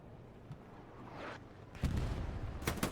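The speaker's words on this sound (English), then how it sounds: "Strafing run." A strafing run in the World War II shooter Hell Let Loose thunders in the distance as low rumbling booms and sharp cracks of fire, building louder toward the end over a constant battlefield din.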